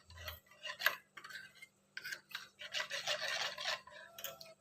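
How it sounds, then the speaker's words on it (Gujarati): A spoon mixing spice masala into water in a bowl, giving soft intermittent scraping and clinking strokes with brief pauses, close and quiet, with no speech. "તો આ રીતે બધું જ બરાબર મિક્સ કરી લઈશું।"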